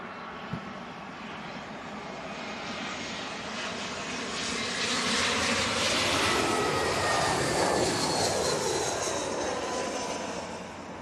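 A fixed-wing airliner on landing approach at London Heathrow Airport, a steady loud engine roar swelling as it passes close overhead and then easing slightly, with no talk over it.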